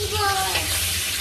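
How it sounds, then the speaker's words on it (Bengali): Fish frying in hot oil, a steady bright sizzle with faint bubbling, close and continuous for a moment, with a soft voice partly under it. "এইভাবে সব মাছগুলো ভেজে নেব।"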